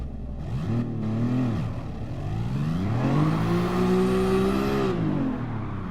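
A video game car engine revs at launch, dips, then climbs again in a long rising whine as it pulls away, loud and steady with no talking.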